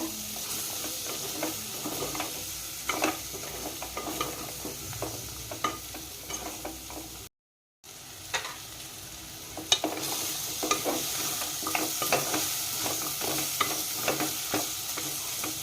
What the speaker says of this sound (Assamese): বিলাহীখিনিও ভালকৈ ভাজি ল'ব লাগিব।